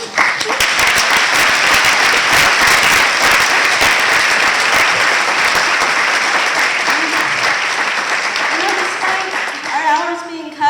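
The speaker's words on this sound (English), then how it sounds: "I want to please clap for the Pleasant Hill Library because they work so hard." An audience at a community awards night gives loud, sustained applause for the local library staff, dense clapping that fills the room and tapers off near the end.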